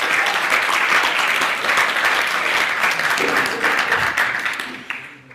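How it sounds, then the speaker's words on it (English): A roomful of listeners claps in steady, close applause for several seconds, thinning out and fading near the end. "She deserves a round of applause for what she's done."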